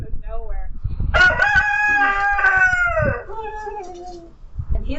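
A pet rooster crows once, loud and close, in a long drawn-out call that trails off, with a few soft clucks before and after.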